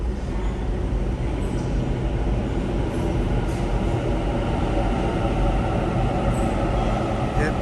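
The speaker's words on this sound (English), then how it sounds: "Just let me check the board here to see when my train is coming next." Train pulling into a station, a steady loud rumble of wheels and engine dominating throughout, with no distinct horn or braking squeal standing out.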